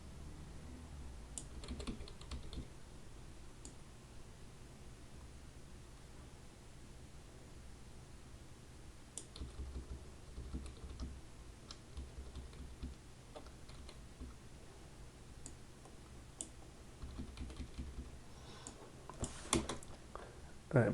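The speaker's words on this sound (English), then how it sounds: "And I'm just using the arrow keys" Arrow keys on a computer keyboard are pressed during 2D game animation work, with faint, sparse clicks scattered across a quiet room with steady background hiss.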